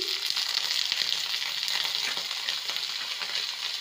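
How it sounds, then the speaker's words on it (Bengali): Chopped garlic and onion frying with vegetables in a hot pan, a loud continuous sizzle and crackle with light stirring, close up and without voices. "এবারে দিয়ে দেবো রসুন কুচি আর পেঁয়াজ কুচি"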